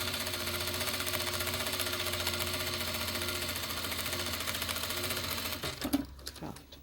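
A sewing machine runs a steady, fast stitch with ordinary thread while backstitching at the start of a seam on a zippered pouch, humming continuously before stopping near the end with a few handling clicks.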